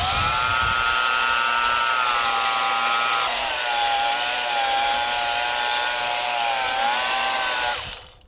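Wood is sanded for a kitchen remodel with a steady, loud, whining power-sander drone that holds for about eight seconds, its pitch wavering slightly before it winds down at the end.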